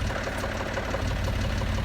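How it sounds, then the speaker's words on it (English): A farm tractor engine runs steadily at idle nearby, a low, even rumble with a faint knocking throb, continuous with no voices. "Keaton's got the tractor out"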